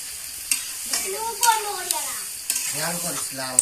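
Meat stirred in an iron wok over a clay stove, close scrapes and clatter over a sizzle, with a voice-like tonal sound and some talking in the background.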